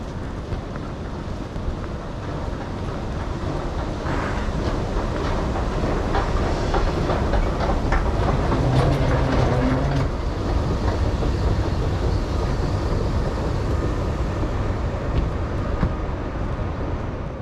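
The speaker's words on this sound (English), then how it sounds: "await the arrival of our train" A RegioJet train rumbles steadily at close range, the sound swelling as it rolls into a platform, with a faint rhythmic clatter of wheels over the track.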